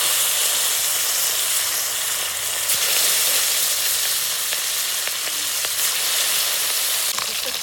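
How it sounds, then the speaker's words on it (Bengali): Fish frying in a hot pan of oil for a home-style potato fish curry, a steady broadband sizzle holding close and loud throughout, with a few sharper crackles and spits rising from the constant hiss. "তেল গরম হয়ে গেছে, মাছগুলো ভেজে নেব।"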